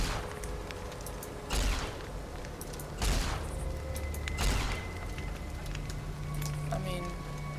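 Gunfire in the video game Fallout: New Vegas comes as three spaced, heavy blasts over a steady crackling background, with a brief voice near the end.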